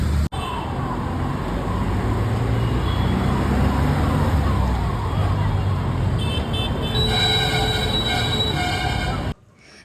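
Loud road traffic on a rainy Kolkata evening gives a continuous engine rumble, joined by sustained, overlapping horn tones that grow thicker toward the end before the sound cuts out.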